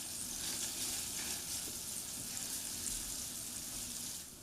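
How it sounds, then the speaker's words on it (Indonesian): Steady sizzling and crackling of minced garlic sautéing in melted butter in a pan, continuous and fairly quiet, with faint clinks of stirring. "Masukkan 1 bawang putih cincang. Tumis hingga harum."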